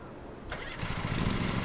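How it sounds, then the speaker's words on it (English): A lawn mower engine in the Lawn Mowing Simulator game cranks and catches, then settles into a loud, steady running roar close by. It rises abruptly from a quiet start, and no one talks over it. "So yeah, back onto the mower."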